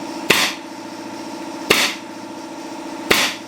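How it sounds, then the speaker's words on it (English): A Porter Cable finishing nail gun drives 1.5 inch nails while installing duck nesting boxes in a barn: three sharp pneumatic shots spaced about 1.4 seconds apart over a steady hum of background machinery. "Installed with this Porter cable finishing gun"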